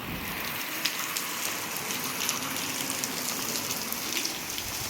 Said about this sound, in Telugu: బయట వర్షం పడుతుంది, ఘోరంగా పడుతుంది వర్షం